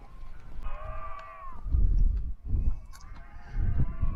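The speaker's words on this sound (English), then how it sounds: "you'll probably be able to hear the cacophony of sheep" Sheep bleating on a farm in the Peak District, several loud drawn-out calls overlapping with one another close by, over low rumbling wind or handling noise.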